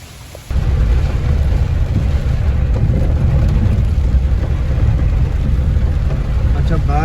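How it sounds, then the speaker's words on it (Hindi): Heavy rain pouring down with thunder rumbling, a loud dense roar that swells in suddenly after a brief quiet start and stays steady and close throughout. "अच्छा बारिश आज काफ़ी ज़्यादा आ रही है।"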